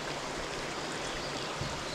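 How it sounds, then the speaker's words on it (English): Hot water at about 168 to 170 degrees flows through the grain mash during beer brewing, a steady, close splashing trickle that continues evenly without pause and with no talking. "Now we've heated this water up to about 168, 170, and we're just going to flush all that sugar on through."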